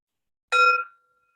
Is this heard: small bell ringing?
yes